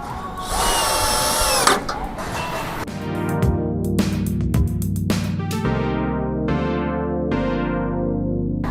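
A power drill drives the original screws into a GLINK 9U/12U metal rack cabinet: a brief high whine, then a run of rising and stopping motor bursts, close and loud.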